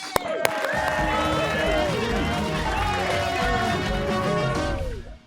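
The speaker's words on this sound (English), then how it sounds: "Give them a nice round of applause." Audience applause at a high school quiz show, steady and full for several seconds, with music playing over the clapping before both fade out.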